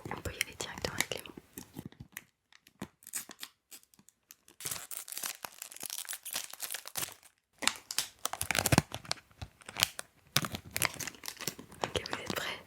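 Blind box packaging is torn open by hand, with crinkling and ripping bursts broken by short pauses, under a soft whispered voice.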